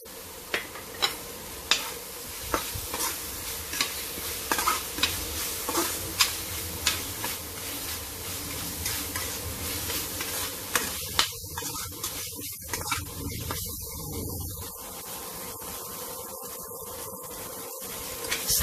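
Spices sautéing in a pan with bay leaves, lime leaves, galangal and lemongrass for cassava leaf gulai, giving a steady close sizzle with repeated stirring scrapes and clicks throughout, no talk.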